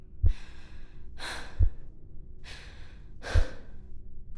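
Heavy breathing from a character in the Return to Grace video game, with four long, loud breaths alternating between inhales and exhales at a slow, even pace, each with a soft low thump.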